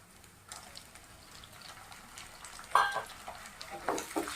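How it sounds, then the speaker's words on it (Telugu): Chopped tomato pieces fry in a pan for a cauliflower tomato curry: a faint, low sizzle, with a few sharper stirring clinks and scrapes near the end. "ఇలా కట్ చేసినటువంటి టమాటా ముక్కల్ని మనం వేసుకుని బాగా వేయించుకుందామండి"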